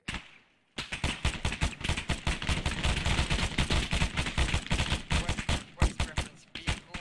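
Rapid bursts of suppressive gunfire in a military video game, dense cracking volleys firing almost continuously after a brief silence, loud and close, with a short pause before a final few shots.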